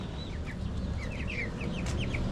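Backyard hens and chicks cluck and cheep, a busy overlapping chorus of soft clucks and high, thin peeps close by over a low steady rumble, with no voices.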